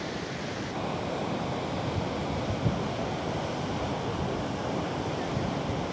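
Constant, dense roar of rushing water at Athirappilly Falls, even and unbroken throughout, heard from fairly near with no voices.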